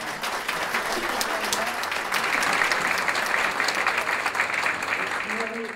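An audience at a township Women's History Month celebration applauds with sustained, dense clapping that fills the room evenly from start to finish.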